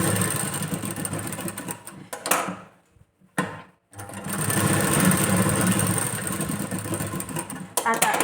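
Sewing machine stitching along the cut edge of the front piece of a katori blouse, running in a steady buzzing burst, pausing briefly, then resuming with a longer continuous run close by.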